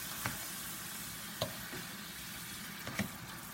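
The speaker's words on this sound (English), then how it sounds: "here we are, we're going to stir it." Ackee and saltfish being stirred in a frying pan, with a soft, steady sizzle and a few light scraping knocks from the spoon, close and quiet with no talking.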